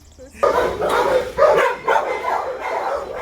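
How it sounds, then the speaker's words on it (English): A small brown dog at an animal shelter barks and yips in several loud, close bursts, with voices talking over and between them. "this little brown dog here is Daisy"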